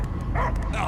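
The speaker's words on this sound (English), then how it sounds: "I hear only barking." A dog in the Guardians of the Galaxy video game gives a couple of short, muffled barks against a loud low rumble of game ambience.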